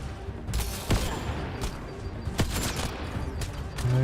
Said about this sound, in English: Damn it, I'm getting shot from 20 different sides.